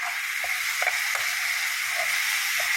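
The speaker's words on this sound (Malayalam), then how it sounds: "മൂടി ഒന്ന് എടുത്ത് നോക്കാം സവോളയും ഉള്ളിയും എല്ലാം നല്ലതുപോലെ വഴഞ്ഞ് കിട്ടിയിട്ടുണ്ട്" Onions and shallots sizzle and fry in a pan for a jackfruit-seed chicken curry once the lid comes off, a steady close hiss with a few faint stirring scrapes.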